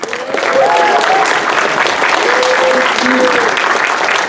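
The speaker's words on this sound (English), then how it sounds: "Let's give him a big round of applause." An audience at a live horror-host event claps together in a dense, loud, sustained wash of applause, with a few voices calling out over it.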